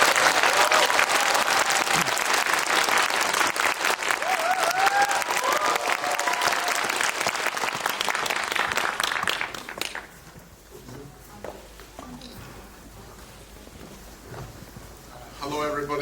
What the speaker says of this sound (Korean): 큰 박수로 맞이해 주십시오. 왕정 감독.